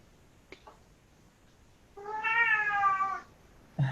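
A cat meows during a board of supervisors meeting: one drawn-out, clear meow in a quiet room, with a couple of faint clicks before it and a short sound at the end.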